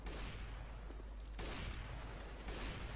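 Dense rapid gunfire from a CS:GO round rattles in a steady wash of overlapping shots, loud and continuous with a couple of sharper bursts and no talk in between.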